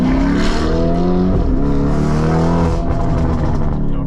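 A Lamborghini Urus tuned to 800 hp revs hard and loud up close, its deep, droning engine roar rising and falling with a jet-like whine, alone without talk.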